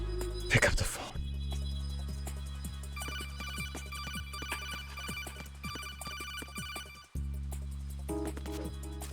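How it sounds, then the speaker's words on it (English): A codec phone call rings in the video game Metal Gear Solid 2: HD Edition, a steady repeating electronic ring tone under game music and a low hum, with a voice speaking over it. "Pick up the phone."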